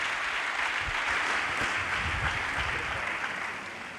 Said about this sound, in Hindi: आपकी तालियां बड़ी ठंडी हैं